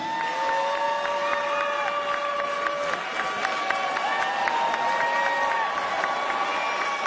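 A seated audience applauds a singer at a political meeting in Washington DC. Steady clapping fills the hall for about seven seconds, at moderate loudness with crowd noise.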